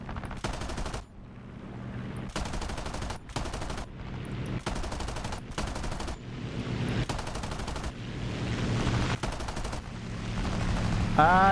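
Bursts of machine gun fire from a P-47 Thunderbolt in War Thunder ring out in repeated strings of rapid shots over a steady engine drone, each burst lasting about a second.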